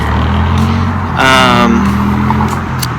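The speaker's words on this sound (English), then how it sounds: "There's a lot of traffic here." Busy road traffic rumbles steadily in the background, with a louder vehicle passing at mid-clip, its harmonic engine whine rising briefly above the constant hum.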